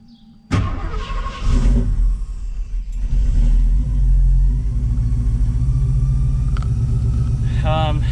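A supercharged 1967 Ford Mustang engine cranks and fires up abruptly, then settles into a loud, deep rumbling idle that runs steadily to the end.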